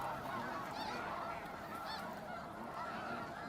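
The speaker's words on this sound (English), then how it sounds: "We have all the birds kind of coming into the pond." Geese and other waterfowl honk continuously as a large flock flies into a pond at dawn at Bosque del Apache, a dense, loud chorus of overlapping calls with no pauses.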